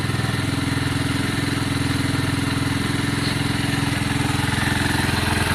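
A Lexmoto Valiant motorcycle engine, just converted from fuel injection to a carburettor, runs at a steady, even idle, its rapid low putter close and loud throughout with no voices.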